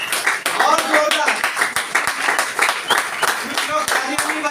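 Audience at a large indoor company event claps and cheers, a dense, continuous patter of many hands heard close and fairly loud throughout.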